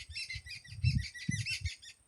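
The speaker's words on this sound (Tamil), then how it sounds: "பச்சைக்கிளி மாதிரியே சவுண்டு போடுதுங்க." Birds calling from a farm with coconut and mango trees, rapid high chirps and tweets like a green parrot, repeated in quick bursts at moderate distance, with low rustling and handling noise beneath and no talking.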